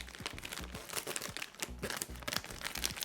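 Packaging being crinkled and torn while a beauty PR box is opened, with close, irregular bursts of plastic and paper rustling and no voices.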